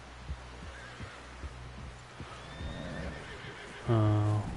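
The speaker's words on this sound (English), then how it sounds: "Someone help John down off this horse" A horse in the video game Red Dead Redemption 2 lets out a loud, close whinny at the very end, preceded by steady low thudding beats and a faint hum.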